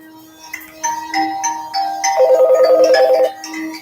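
A telephone rings in a radio studio during a call-in show about renters, a warbling electronic ringtone with bright chiming tones rising into a fast trilling burst, clear and close with no talk over it.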